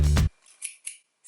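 Scissors snip through curly hair at home, with two or three crisp, close cuts spaced apart after a brief louder rustle at the start and no talking.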